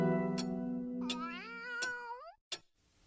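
Several cats meow one after another, long pitched calls that bend and waver, each punctuated by a sharp click, close and clear with no other sound around them.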